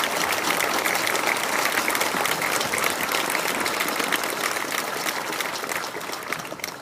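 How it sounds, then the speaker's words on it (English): Crowd applause for veterans at a 4th of July celebration, a dense, steady wash of many hands clapping for about seven seconds, loud and sustained, easing slightly toward the end. "I'd like everyone to give a round of applause to all the veterans that are here today."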